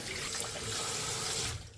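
A kitchen pull-down faucet sprayer gushes water, steady, loud and close, with a dense hiss that eases slightly just before the end.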